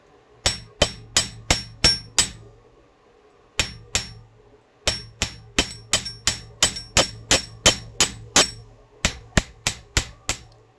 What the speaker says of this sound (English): Hammer the curve.